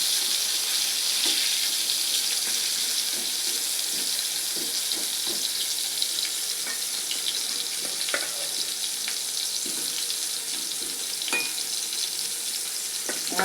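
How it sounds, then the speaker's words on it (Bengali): Pointed gourd frying in oil in a pan makes a steady, bright sizzle that runs unbroken throughout, with faint scattered clicks and crackles on top and no talk. "এমনি খালি পটলটা বানালে ভালো লাগে না, তার জন্য একটু ভাজি করে নিই"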